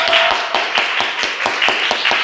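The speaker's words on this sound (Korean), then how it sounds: "우리 한번 박수 큰 박수" Applause from a church congregation during a worship service, a brief burst of scattered clapping with uneven, overlapping hand claps close by.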